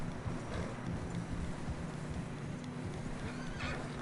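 A horse in the video game Red Dead Redemption 2 whinnies while struggling through fresh snow, over the clopping of hooves and a constant rumble of wind-like background noise.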